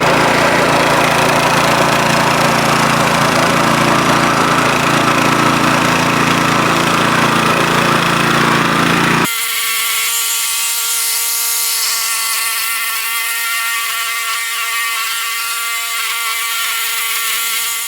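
A powered lawn scarifier tears moss from a lawn on a run up and down, a loud continuous motor roar with gritty raking noise for about nine seconds, then shifting to a steadier, more tonal whine with a strong hum as it carries on.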